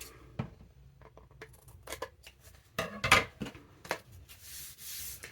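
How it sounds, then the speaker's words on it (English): Fabric scissors picked up and handled at a junk-journal crafting table, giving a run of close, irregular clicks, scrapes and rustles with one louder clattering burst in the middle and no one talking. "Just wanted to grab my fabric scissors."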